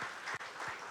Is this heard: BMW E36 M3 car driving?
no